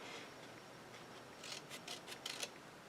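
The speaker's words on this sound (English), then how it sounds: "So I'm just going to cut a triangle" Scissors snip through a paper triangle for a scrapbook pennant, a few quick crisp cuts toward the end after a faint rustly background, close and quiet with no talk.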